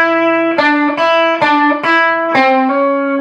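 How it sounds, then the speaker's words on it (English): An electric guitar plays a blues lick from a song in a slightly overdriven tone, with several picked and sustained notes ringing clearly and loudly over about three seconds, no voice present. "Real cool blues lick."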